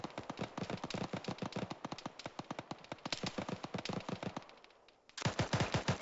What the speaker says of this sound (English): Shots to our right.